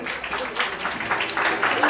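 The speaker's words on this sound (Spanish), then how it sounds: "Y las palmas para ella, por favor." Applause for a graduating student at a school cap-crossing graduation ceremony, a short burst of steady clapping from a gathered crowd with a voice faintly heard over it.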